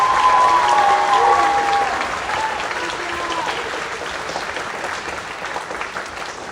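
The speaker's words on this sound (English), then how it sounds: "Can we give one more hand for the junior high band" Concert audience applauding a junior high band at a high school band concert, sustained dense clapping from a crowd that gradually softens over several seconds.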